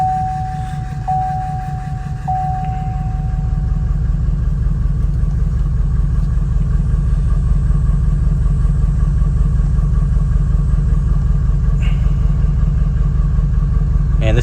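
A Duramax diesel pickup with oil blowing out of the exhaust idles roughly and close by, giving a loud, uneven, shaking rumble that pulses throughout, with a brief thin whine near the start.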